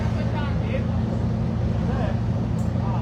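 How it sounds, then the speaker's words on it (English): Steady low rumble of a Leyland diesel engine idling or running aboard a Routemaster bus, heard from inside as a constant drone with faint background noise. "Taking a moment to appreciate the proper Leyland engine on this bus."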